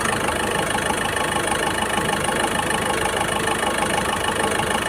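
Skoda Rapid car engine idling, a steady, even hum with a constant low rumble, close and unbroken for the whole stretch, with no voices over it.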